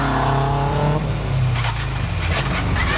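Subaru WRX rally car climbing a hillclimb course, engine revving hard with quick gear-change pitch steps and a brief tyre scrabble, loud and close, no talk.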